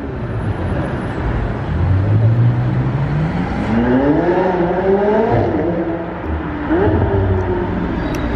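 A Ferrari Pista Spider approaches flat out, its engine rising in pitch through the gears, loud and close, over street traffic noise as it roars past.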